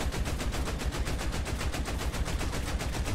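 Rapid automatic gunfire rattles in the War Thunder tank battle game, a fast, steady stream of loud, close shots with an even rhythm and no talking.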